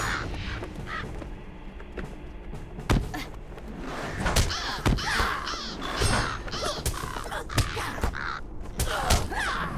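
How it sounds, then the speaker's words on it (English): Crows cawing in a fantasy video game set at a barrow, repeated harsh caws over a steady ambient drone with occasional thuds and knocks, no talking. "Never liked those crows."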